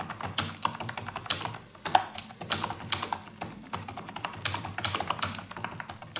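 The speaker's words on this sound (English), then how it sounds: "As you can hear, it's not a particularly loud keyboard when you are typing." Typing on an AZOLT gaming keyboard with backlit keys, a steady run of quick, moderately quiet key clicks and clacks at a close distance, with no talking.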